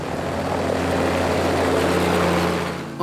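A helicopter flies past in an audio drama scene, making a loud, continuous droning engine and rotor hum that holds steady for about three seconds before it starts to fade at the end.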